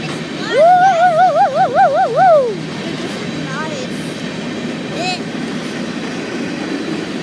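A train rolls past with a wavering horn blast early on, then a steady rumble of the cars passing at a moderate distance, with a brief squeal later.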